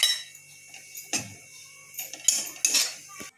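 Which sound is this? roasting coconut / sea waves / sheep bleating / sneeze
roasting coconut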